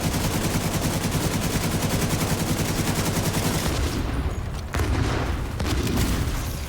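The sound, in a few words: gunfire in a video game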